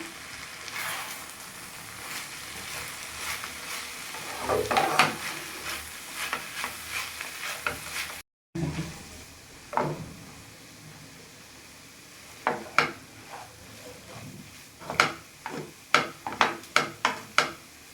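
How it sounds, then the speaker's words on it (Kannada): Banana flower stir-fry being stirred in an oily pan, a soft sizzle under repeated scraping and tapping of a spoon, the strokes growing sharper and more frequent toward the end, with a brief gap midway. "ಚೆನ್ನಾಗಿ ನಾವು ಮಿಕ್ಸ್ ಮಾಡಿಬಿಡೋಣ ಈಗ"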